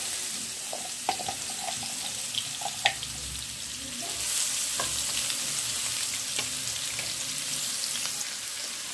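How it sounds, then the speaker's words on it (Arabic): Onion fries in a pan for kofta with potatoes, a steady moderate sizzle with scattered clinks and taps of utensils, rising slightly in the second half. "نفس الطاسه هنحط عليها البصله،"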